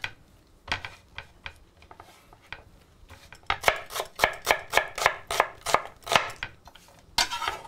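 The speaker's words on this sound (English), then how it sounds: "So the onion gets sliced, and that just goes in there." A knife slicing an onion on a cutting board, a rapid run of crisp, evenly spaced chops building up midway after a few scattered strokes, close and clear with no talking.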